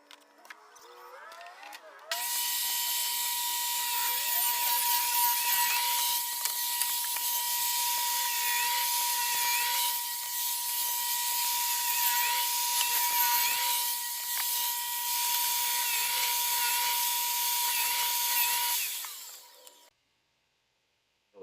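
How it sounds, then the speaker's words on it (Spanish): A power saw cuts through wood for building a set of three floating shelves, a steady loud whine holding for about sixteen seconds with a sustained tone, starting abruptly and cutting off near the end. "Entonces vamos a hacerlo con la sierra para ver la dimensión."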